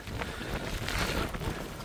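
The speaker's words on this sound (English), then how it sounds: "I'll just try and shield you from the wind" Strong wind buffets the microphone in a quarry, a loud, low rumbling roar that surges and eases over a couple of seconds, with no voices.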